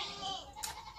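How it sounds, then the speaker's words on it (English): A goat bleats on a farm: one wavering, nasal call up close, lasting about half a second and ending in a brief breathy rustle, with no talk over it. "June's my favorite goat."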